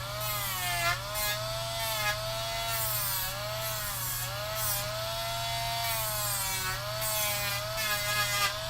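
A small high-pitched rotary drill whines steadily while trimming away the top and outer layers of an edge, its pitch wavering as pressure shifts, under a constant low hum.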